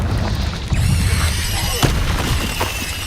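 Fiery Confringo spell blasts from Hogwarts Legacy combat, a dense run of booming bursts and crackling pops over continuous battle noise, with a sharp louder hit near the middle and another toward the end.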